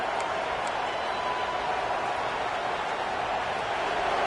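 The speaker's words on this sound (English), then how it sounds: "Listen to the crowd energy here in the early going" Football stadium crowd at an East Carolina vs Clemson game, a dense, steady roar of cheering that fills the space evenly throughout, loud and continuous with no break.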